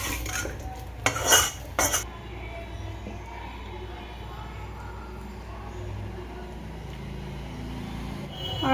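A spoon scraping fried raisins in ghee out of a pan onto a plate, with a few loud metallic clinks early on, then quieter background noise with faint rumble.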